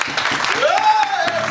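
Guests applauding at a civil wedding ceremony in Congo, a burst of hand clapping that continues through the moment while a voice speaks over it.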